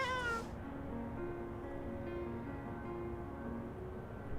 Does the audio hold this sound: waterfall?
no